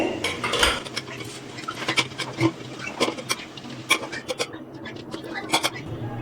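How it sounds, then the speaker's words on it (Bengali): Boiled duck eggs are lifted one by one into a bowl of cold water in a home kitchen, giving irregular clinks and knocks of spoon against bowl with light splashing, close and fairly loud. "এবার ডিমগুলো এইভাবে তুলে এই ঠান্ডা জলের মধ্যে দিয়ে দেবো"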